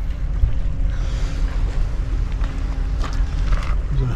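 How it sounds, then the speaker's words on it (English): A large container ship passing on the water off the coast at Paull, a low steady engine rumble under wind and faint lapping water, heard from shore with no speech. "There's a little boat going by. It's a big one."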